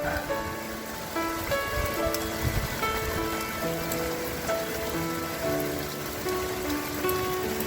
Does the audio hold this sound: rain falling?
yes